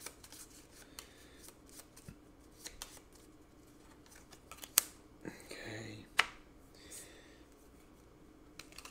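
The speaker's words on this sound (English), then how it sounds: "Just going to do a quick shuffle." A deck of Legacy of Yu game cards gets a quick shuffle at a quiet tabletop: soft handling rustles and clicks, then one brief riffling burst near the end.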